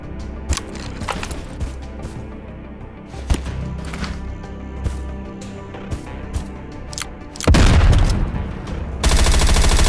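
Gunfire in the PvP shooter game Method of Entry crackles in scattered single shots and quick bursts, with a louder sustained barrage near the end and no voices.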